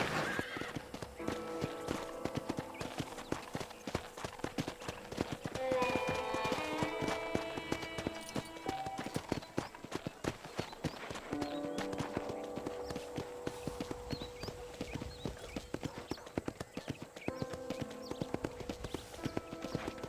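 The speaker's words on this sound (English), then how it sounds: "let's see if you can still ride a horse" Steady clip-clop of horse hooves at a trotting rhythm in the game Red Dead, with occasional whinnies and a busy game-style background of music and ambient effects.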